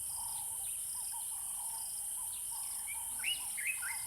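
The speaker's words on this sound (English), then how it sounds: "the lions can hear continuous chirping from the nest of the sociable weavers" Sociable weavers chirping from their communal nest in the wild savanna of southern Africa, a continuous scatter of thin, high twittering calls heard at a distance over a steady insect drone.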